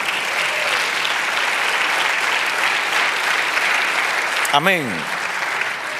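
Church congregation applauding the Lord during a Spanish-language sermon, a steady wash of clapping throughout, with a brief spoken exclamation near the end.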